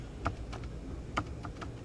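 Keystrokes tapped on a computer keyboard while working in Houdini software, a few separated clicks with two slightly louder presses, close and fairly quiet with no speech.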